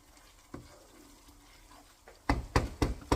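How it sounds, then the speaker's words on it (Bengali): Spice masala is fried in a pan with a low sizzle, an isolated clack early on, then a rapid series of loud spatula knocks and scrapes near the end, close by, with no one talking. "আমি এখন ভালো করে মশলাটা কষিয়ে নিব।"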